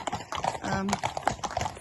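Hooves of a tall young racehorse clip-clop at a steady walking rhythm while ridden, close and fairly loud, with faint voices in the background.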